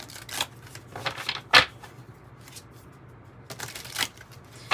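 Crisp riffling shuffles of a tarot deck in several quick bursts, close and fairly loud, with quiet pauses between.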